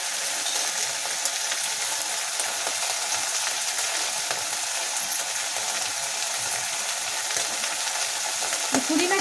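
Onion and tamarind frying in a pan for chutney, a steady close hiss of sizzling oil running throughout with faint scraping of a stirring spoon and no talking.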